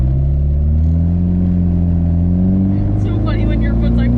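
Dodge SRT-4 turbo engine revving, a loud steady drone with rising harmonics close up, then a faint higher whistle toward the end, with a voice heard briefly.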